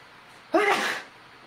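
A single violent sneeze bursts out sharply in a quiet room, a loud, brief explosive blast that fades quickly back to low background hiss.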